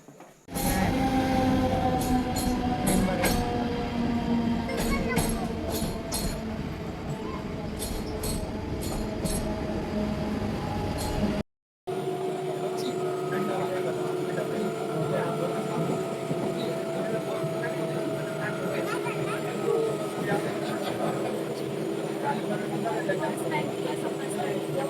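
Inside a moving passenger train, a steady rumbling roll with rhythmic clacks and higher metallic ticks, briefly cut off midway, with people talking nearby.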